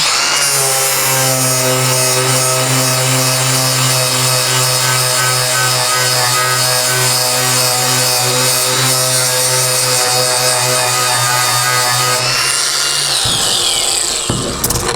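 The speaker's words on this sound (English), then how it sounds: "So I'm just going to take my grinder here" An angle grinder whines steadily and loudly against rusty Chevy/GMC truck body metal, a sustained high-pitched grinding drone that runs unbroken before spinning down near the end.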